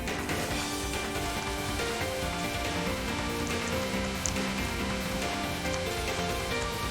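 Blood rain falls in the Len'en video game as a dense, constant patter like heavy rain or sizzling, steady and loud for several seconds, with layered game music running underneath.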